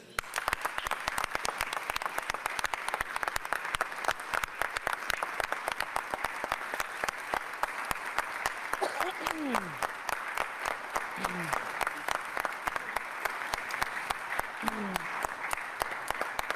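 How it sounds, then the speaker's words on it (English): A large crowd gives a sustained, dense round of applause at a Philadelphia public safety announcement, with steady clapping throughout and a few brief voices calling out over it. "I'm going to ask you to join me in giving a huge round of applause to Adam Geer"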